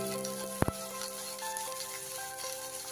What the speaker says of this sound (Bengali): আলু একসাথে দিয়ে কষাই নিচ্ছি